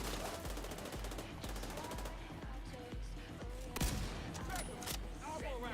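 Automatic rifle fire in The Division 2 video game, rapid evenly spaced shots repeating steadily throughout, with a heavier impact partway through and a player talking faintly underneath.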